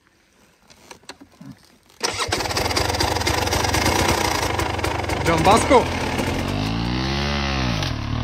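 After a brief exclamation and some clicks, a hard enduro motorcycle engine fires up, idles loudly, then revs up and down near the end.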